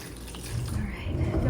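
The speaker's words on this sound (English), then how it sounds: "Pour a little bit of this rainwater in here." Rainwater poured into small seed-starting cells, a brief steady trickling splash of water heard close up.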